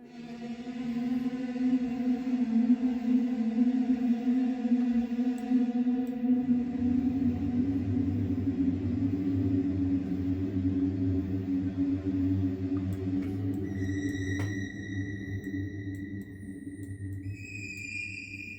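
A dark synthesizer patch played in low octaves, with a Ligeti-like drone cluster, sustained and reverberant, slowly shifting tones, and high bell-like notes entering near the end.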